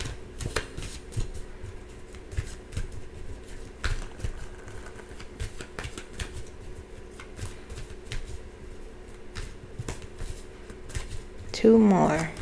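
Tarot cards are shuffled by hand in quick, rapid riffling bursts close by, with brief pauses between passes and a voice speaking at moments.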